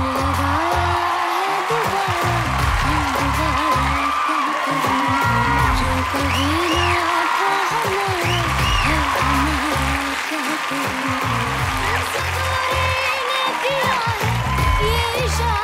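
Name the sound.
audience applause for the award winner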